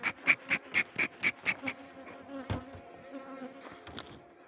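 Bees buzzing around an opened beehive colony while a third box is added for the sunflower nectar flow, heard as a close, steady hum under a series of rhythmic tapping knocks.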